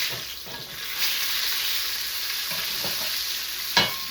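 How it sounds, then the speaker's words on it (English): A Vermont Wagyu beef burger patty sizzles steadily in a pan as it is flipped, a continuous crackling fry with a few sharp scraping clinks of the spatula, close and alone without talk. "I'm going to flip my patty."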